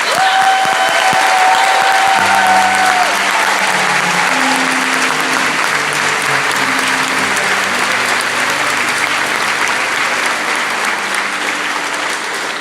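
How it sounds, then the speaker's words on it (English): Sustained, loud applause from a large crowd of several hundred at a candidates forum, dense and even throughout, with a brief tone and some low murmuring underneath. "Now you can share your applause celebration."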